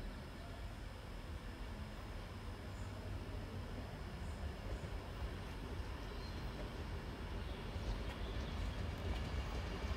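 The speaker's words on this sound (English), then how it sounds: "coming in now is another Virgin Trains Pendolino service to London Euston" A Virgin Trains Pendolino passenger service rounds a bend into Lancaster on the West Coast Main Line, a steady broadband rumble and rush of wheels and motors holding loud and even throughout.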